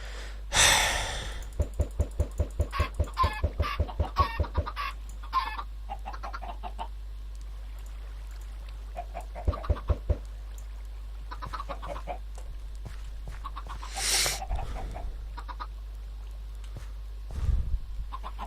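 Chickens cluck on an egg farm in a video game, a quick run of rhythmic clucks early on, then scattered clucks and a few louder squawks spread over a constant low electrical hum, with no voices.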